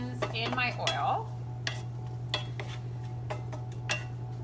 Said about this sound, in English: I'm just gonna stir this to coat all of my peppers and my onions in my oil